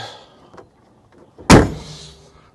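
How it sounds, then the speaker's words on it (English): A single heavy, sturdy clunk as a 1960 Chevrolet Corvette's hood slams shut, preceded by faint rustling, with a brief resonant tail. "Nice sturdy clunk to the hood there."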